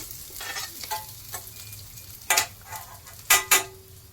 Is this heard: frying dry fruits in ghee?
yes